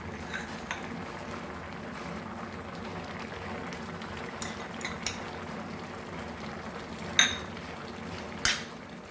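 Coconut going into a pan of Goan red pumpkin bhaji on the stove, a soft steady sizzle with a few sharp clinks of a utensil against the pan near the end.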